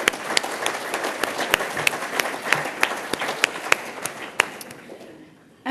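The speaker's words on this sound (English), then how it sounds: "I think with a round of applause." Dinner guests at an economic forum's annual dinner applaud for several seconds, a dense patter of many hands with sharper individual claps standing out, tapering off toward the end.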